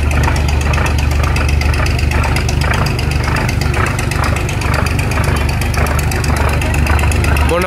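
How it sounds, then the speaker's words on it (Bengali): A passenger launch ferry's engine slowing on a river at night, a loud, steady mechanical drone with rapid knocking pulses, close and continuous throughout, with a voice speaking over it. "আমাদের লঞ্চটা একেবারে স্লো হয়ে যাচ্ছে"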